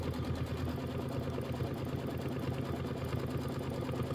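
An embroidery machine stitches quilting on a Kimberbell Nativity bench pillow, its needle running in a steady, fast rhythmic chatter with a low motor hum, moderately close and without pause.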